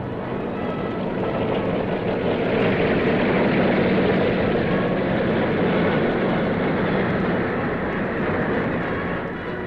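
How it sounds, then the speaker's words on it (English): Propeller aircraft specially equipped for anti-submarine warfare, flying with NATO forces in 1959, drone steadily and loudly throughout with a broad, continuous engine roar and no voices. "NATO aircraft specially equipped for anti-submarine warfare will also participate"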